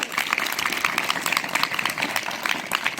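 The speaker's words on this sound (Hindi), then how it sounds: "बेटा इधर आ जाओ, जोरदार ताली" A rural school classroom in Uttarakhand breaks into dense, continuous clapping for a newly selected student, a close, bright patter of many hands without letup.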